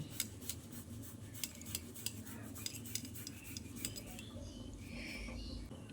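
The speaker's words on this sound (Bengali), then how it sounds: "এই আলু 3টেকে এখন একটা গ্রেটারের সাহায্যে এভাবে গ্রেট করে দিয়ে দিচ্ছি।" Three boiled potatoes are grated over a bowl with a handheld grater, making a close, quiet rhythmic scraping with light metallic clinks at a steady pace and no voices.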